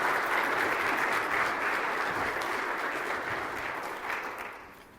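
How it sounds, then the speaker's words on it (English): An audience applauds, a steady wash of clapping that holds strong and then gradually tapers off toward the end. "another big round of applause"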